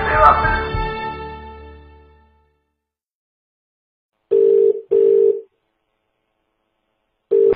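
A loud chime fades out, then silence, followed by three steady electronic beeps of a disconnected phone line after hanging up, loud and close.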